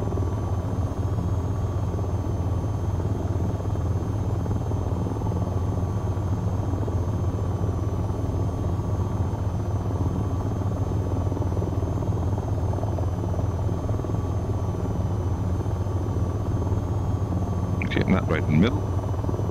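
AH-94 attack helicopter flying in the VTOL VR game, a constant loud rotor and turbine drone throughout, with someone talking briefly over it near the end.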